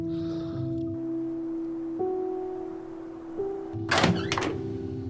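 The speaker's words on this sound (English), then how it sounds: "Go open the door" A door opening in the video game Tell Me Why: a soft thunk near the end over sustained musical tones, with a brief rustling clatter as it swings.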